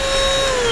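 A ThisWorx corded car vacuum runs with a steady, close, high motor whine, heard alone in a brief burst.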